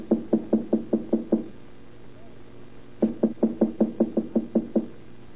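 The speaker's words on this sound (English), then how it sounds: "Wait, I'll knock first." Knuckles rap on an apartment door in two quick bursts, about seven sharp knocks, then a pause and roughly nine more, loud and close with no voices over them.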